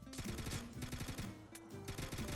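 Rapid bursts of gunfire ring out in Minecraft during a baby daycare escape roleplay, a dense stream of rattling shots close and steady throughout.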